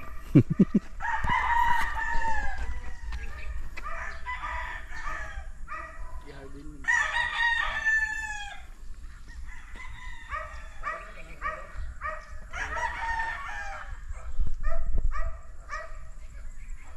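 Several roosters crow repeatedly over a busy farmyard, with hens clucking, a dog barking now and then, and people talking in the background.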